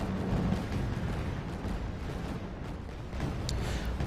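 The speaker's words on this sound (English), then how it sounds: "And our fleet was engaging with the cannons" Naval cannons fire from a NATO fleet in the war strategy game Wargame Red Dragon, a heavy continuous rumble of blasts and booms with no clear pauses, dense and loud throughout.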